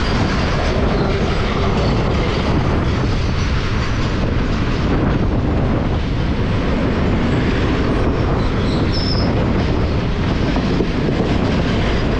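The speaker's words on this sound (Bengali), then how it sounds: "মালগাড়ি।" A loud, close freight train roars past continuously, heavy rumbling with rhythmic clattering of wheels and wind buffeting throughout.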